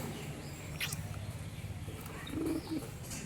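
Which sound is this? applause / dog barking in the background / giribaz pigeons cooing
giribaz pigeons cooing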